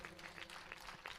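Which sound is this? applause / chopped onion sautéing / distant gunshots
applause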